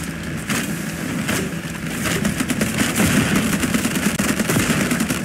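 Gunfire from a naval battle in the video game Age of Water, a dense, continuous stream of rapid shots and bursts holding steady and loud, with no talk over it.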